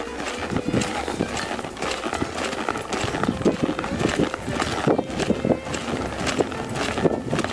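Hoofbeats of a horse loping in a steady three-beat rhythm during a reining warm-up, close by, with soft background noise and occasional low sounds.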